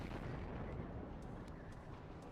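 Artillery fire in the Cold War strategy game WARNO: a dense, continuous rumble of distant shelling and explosions, steady and fairly quiet throughout with no distinct single blasts standing out.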